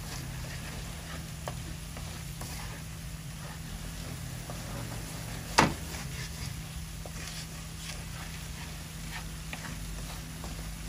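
Shrimp frying in a pan gives a quiet, steady sizzle with faint stirring scrapes, broken by one sharp clatter midway, over a low constant hum from the stove.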